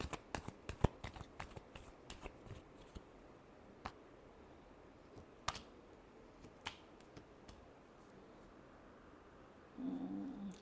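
Tarot cards are shuffled by hand, nearby and quiet, giving scattered soft riffles and sharp snaps with quiet pauses between.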